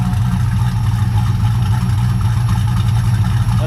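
An old truck with a mildly cammed engine idles steadily up close, a continuous low rumble with a slightly uneven, loping pulse and no voices over it.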